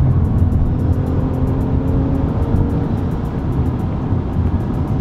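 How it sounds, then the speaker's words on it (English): Engine of a 2019 Toyota Camry XSE pulling hard under acceleration, a steady loud roar heard from inside the car with road noise, no talking. "God, it's like a locomotive, that engine."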